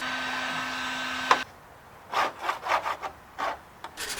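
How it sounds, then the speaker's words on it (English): A flap wheel grinds a vintage camper part steadily for about a second and a half, then stops abruptly. Short bursts of rubbing and scraping follow, close and moderately loud. "we've decided that flap wheel may be the way to go."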